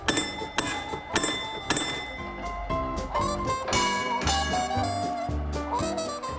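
A tram conductor's bell clangs four times in a quick series as a reverse signal, the bright strikes ringing over one another as the tones sustain and overlap.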